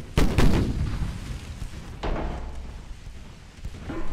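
Ships' guns fire during a naval battle in a French Empire campaign of a strategy video game: a loud double boom opens, then single heavy shots land about two seconds apart, each fading into rumbling echoes.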